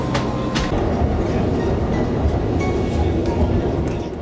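A passenger train on the Görlitz–Zittau line, crossing the Neisse river on the German–Polish border, rumbles loudly and continuously on its rails, with a few sharp clicks from the wheels early on.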